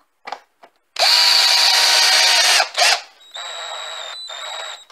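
A power drill driving a screw whines loudly in short bursts, then runs steadily for over a second, stops with a small clutch click, and spins up again with a slightly different pitch.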